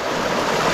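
Steady broadband rush of river water flowing over rocks, continuous and fairly loud with a faint wind-like hiss, no voices.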